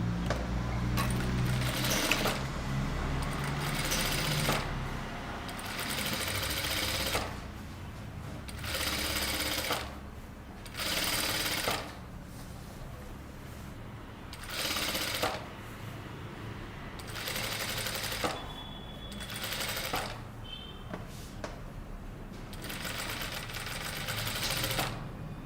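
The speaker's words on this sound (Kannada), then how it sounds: "ಸ್ಟಿಚ್ ಮಾಡಿಕೊಂಡು ಟಾಪ್ ಸ್ಟಿಚ್." A sewing machine runs in repeated bursts, top stitching a boat neck kurta, its loud mechanical whir starting and stopping about every few seconds with short quiet pauses between runs.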